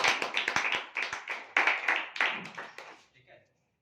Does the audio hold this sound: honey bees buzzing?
no